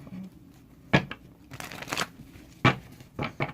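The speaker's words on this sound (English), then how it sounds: "Let's shuffle." Tarot cards being shuffled in several brisk bursts of riffling and crinkling, close up, with short pauses between them and no talking.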